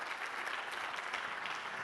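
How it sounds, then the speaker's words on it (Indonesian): Dense, steady applause from a church congregation, a continuous wash of many hands clapping at once with no pauses. "Yang percaya tepuk tangan bagi Allah kita."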